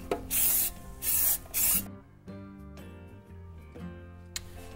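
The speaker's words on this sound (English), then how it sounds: "you can use baking spray for spraying the sides, the bottom and the other sides" Baking spray hisses from an aerosol can into a cake pan, three loud, close bursts in quick succession, then quieter clinks and handling of the pan.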